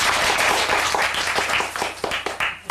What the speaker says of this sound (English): I'm going to signal all of you at certain junctures of the poem, and I want you all to applaud.